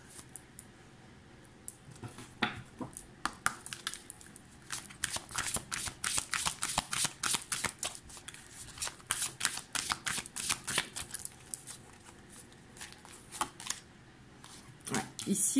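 Golden Lenormand oracle cards shuffled by hand, a run of quick crisp riffling flutters and slaps that repeat steadily and close up, starting sparse and growing dense and continuous.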